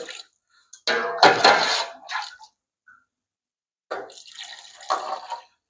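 Hot water pours into a metal cooking pot in two splashy bursts separated by a pause, with light clinks of the vessel, while making chicken biryani.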